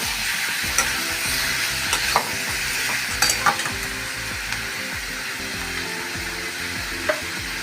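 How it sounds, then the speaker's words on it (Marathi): Tomatoes sauté in a hot pan with a steady, close sizzle and frying crackle, broken by occasional scrapes and knocks of a stirring spoon. "टोमॅटो पण मऊ होईपर्यंत फक्त परतून घ्यायचं आहे"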